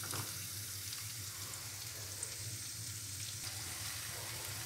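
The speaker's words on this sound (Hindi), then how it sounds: "अब उसमें फ्राई किया हुआ चिकन डाल दें।" Fried chicken for Chicken 65, stirred into a pan with spices and salt, sizzles in a steady, low, soft hiss with a faint hum beneath, heard alone at a distance.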